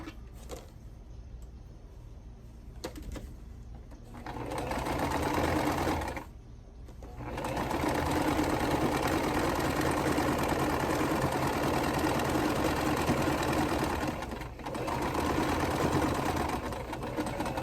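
Quilt blocks for a Coriander Cascade quilt being stitched on a domestic sewing machine: a steady, close mechanical whir that starts and stops in several runs, pausing briefly between seams.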